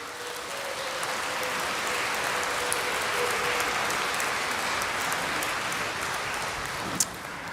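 A church audience at a Catholic charismatic renewal conference claps in steady, dense applause, heard from a distance and sustained for several seconds, with a brief sharp knock near the end.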